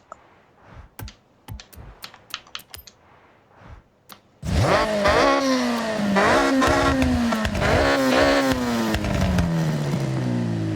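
A Honda Civic in Forza Horizon 6 roars through rising revs and repeated gear shifts, loud and close, after a stretch of sparse computer keyboard tapping.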